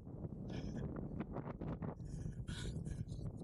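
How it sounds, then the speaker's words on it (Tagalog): Wind buffets the microphone during a cold-weather bike ride, producing low rumbling gusts that rise and fall, with brief breathy swells partway through and at the end. "Na-enjoy ko na lang itong hangin na to."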